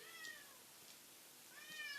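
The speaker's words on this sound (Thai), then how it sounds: "เหมียวตัวไหนวะนี่" A cat meows twice, short and high-pitched, with a quiet pause between calls against a faint background.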